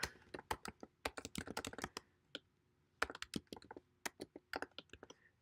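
Someone types an administrator account name on a computer keyboard, quick bursts of close, crisp key clicks with a short pause in the middle.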